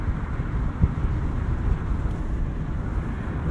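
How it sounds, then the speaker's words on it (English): Wind buffeting in an open-top 2023 Mazda MX-5 Miata with a manual gearbox, driving with the roof down: a steady, loud low rumble of wind noise across the microphone with one brief thump, no voices. "as speeds pick up, with the top down, you are going to have to deal with that buffeting."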